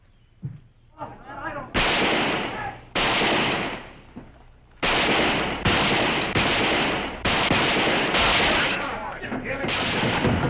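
Loud gunshots ring out one after another in a western shootout, each sharp crack followed by a ringing tail, several shots spaced across the scene.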